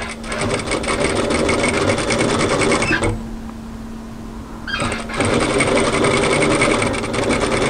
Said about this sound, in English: the reason we want to sew just to the side is so we don't have to remove our gathering stitches